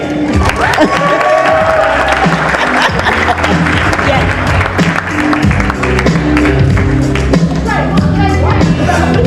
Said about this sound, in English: Come, keep clapping.